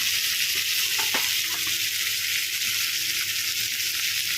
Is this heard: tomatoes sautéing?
yes